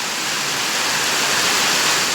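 Steady roar of heavy nighttime rain, broadband and unbroken, holding a constant loud level from start to finish.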